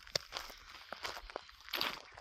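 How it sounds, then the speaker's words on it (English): Footsteps crunch along an outdoor trail by the Gila River in quiet nature, an irregular series of scuffing steps close to the listener with no other sounds. "the other thing I love is that sound. You just hear footsteps, your own."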